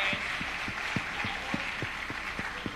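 An audience at a volunteer kickoff event applauds its volunteers with a steady wash of clapping, and a soft, regular low thump pulses beneath it.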